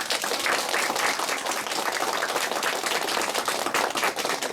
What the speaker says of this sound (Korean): 그 큰 박수로 맞이해 주시기 바랍니다.